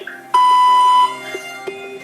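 A single steady electronic beep of under a second sounds on an automated phone call, clean and close, followed by faint low tones and small clicks.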